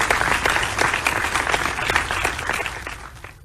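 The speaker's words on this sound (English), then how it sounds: "Let's give her a round of applause." Steady audience applause fills a research summit hall, a dense wash of many hands clapping at an even level from start to finish with no talk over it.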